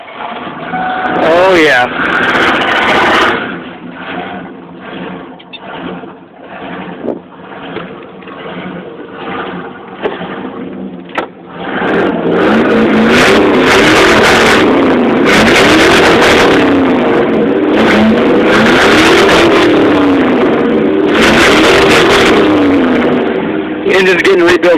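An old, tired truck low on fuel cranks and catches, then its engine revs loudly and roughly in repeated surges close by, with someone talking briefly over it.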